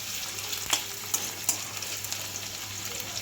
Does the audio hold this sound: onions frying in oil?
yes